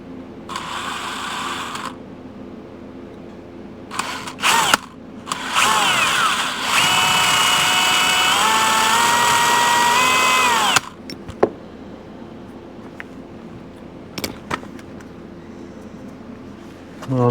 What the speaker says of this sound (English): see if we can drill it out a little bit here